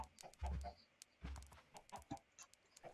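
Chickens cluck in the block-building video game Cyclopean Craft, giving a few short, close clucks in quick bursts across a couple of seconds.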